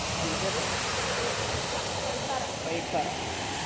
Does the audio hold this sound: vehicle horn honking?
no